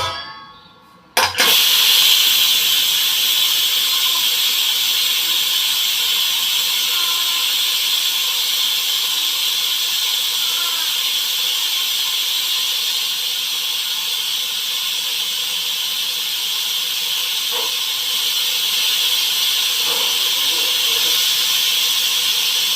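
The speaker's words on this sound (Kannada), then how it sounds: "ಕುಕ್ಕರ್ ಓಪನ್ ಮಾಡ್ತೀನಿ ಇವಾಗ." A pressure cooker is opened and releases a loud, continuous hiss of escaping steam. The hiss starts abruptly after a brief short burst and holds steady for about twenty seconds, with faint clinks beneath.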